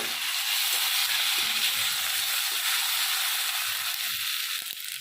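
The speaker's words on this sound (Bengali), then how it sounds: "রসুনটা আমি একটু ভালো করে ভেজে নেব" Onion and garlic frying in a pan for a Bengali-style cabbage dhokla, giving a steady, close hiss and sizzle that runs without a break for the whole stretch, with no talk over it.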